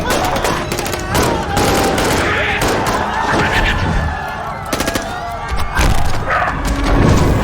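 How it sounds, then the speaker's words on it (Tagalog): Rapid gunfire and heavy bomb explosions in a battle, a dense, continuous barrage of cracks and booms that fills the whole stretch at high volume. "Umalangaw-ngaw ang mga putok ng baril at pagsabog ng mga bomba sa iba't ibang panig"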